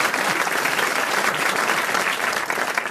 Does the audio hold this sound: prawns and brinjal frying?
no